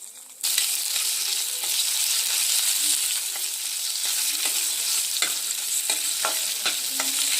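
Ginger and garlic paste sizzles steadily in hot oil in a pan, a loud, close, continuous frying hiss with occasional stirring scrapes and no talking.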